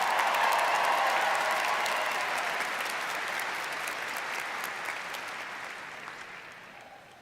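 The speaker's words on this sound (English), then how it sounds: "Let's give them another round of applause." A large commencement crowd at a university graduation applauds warmly, a dense roar of clapping that starts strong and slowly fades over several seconds.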